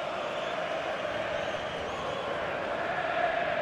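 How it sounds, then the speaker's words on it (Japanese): Home supporters in a FIFA 23 stadium, at a West Ham match, keep up a steady, distant roar of cheering that holds at an even level throughout. "ホームのサポーターの歓声は大きくなっています。"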